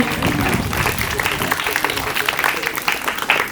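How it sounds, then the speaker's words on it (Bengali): An audience at a Hul festival gathering at an open school in Birbhum applauding: dense continuous clapping from a crowd with voices mixed in. "আরে জোরে হাত তালি দেয়া হোক শান্তির জন্য"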